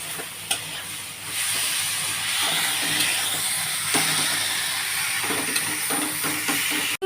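Red lentils stirred in a sizzling pan for a Bengali masoor dal chorchori, with a steady close hiss of frying and soft scraping of the spoon throughout, no voices.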